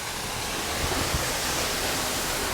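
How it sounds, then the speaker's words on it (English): Duden waterfall in Antalya pours down in a steady, loud, broadband roar that fills the space without a break, heard close up with no voices. "As you can see, the waterfall behind me pouring down."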